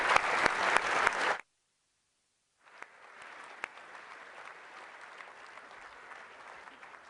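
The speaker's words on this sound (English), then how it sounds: "Please give a clap." Audience applause at a business forum with retail executives, a short loud burst that cuts out abruptly, then resumes as steadier, quieter clapping from a sizable crowd.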